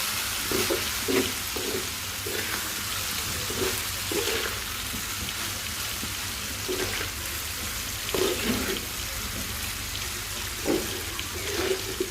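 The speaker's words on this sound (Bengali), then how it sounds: "এদিকে মাছ ভাজাটা উল্টিয়ে দিলাম মাছগুলো প্রায় ভাজা হয়ে আসছে আরও কড়া করে ভাজবো" Fish being fried extra crisp and a potato bhaji being stirred in a pan, heard as a steady broadband sizzle with soft clinks and scrapes of stirring recurring throughout, moderately loud and with no talking.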